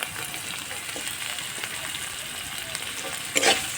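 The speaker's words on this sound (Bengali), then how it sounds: "রসুন কুচি দিলাম" Chopped garlic fries in a pan, a steady close sizzle and crackle with a brief louder spatter near the end, with no talk.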